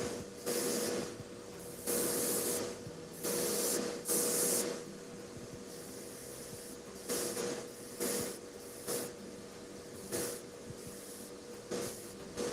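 Airbrush driven by a compressor spraying acrylic paint indoors, giving repeated hissing bursts of roughly half a second to a second, loud and close, separated by a steady low compressor drone.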